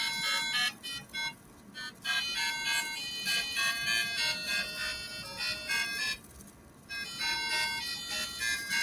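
An Arduino-driven speaker plays a bright, beepy electronic melody of clipped tones in a stop-start phrase, heard at moderate level in a room with a slight background murmur.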